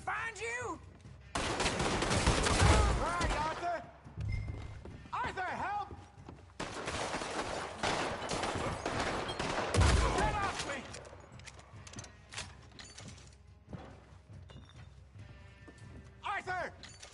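Gunfire erupts during a shootout in Red Dead Redemption 2, with bursts of rapid, crackling shots and loud blasts mixed among urgent shouting voices, fading toward quieter scattered noises near the end.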